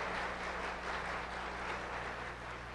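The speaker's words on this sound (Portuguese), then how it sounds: "Então, podem aplaudir, né?" An audience applauds after a prayer at a Seicho-No-Ie television gathering: steady, even clapping that fills the whole stretch, soft and distant with no voices over it.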